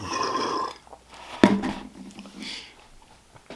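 A person lets out a single loud, close burp after chugging Mountain Dew soda, a short guttural belch amid quiet breathing and faint background noise.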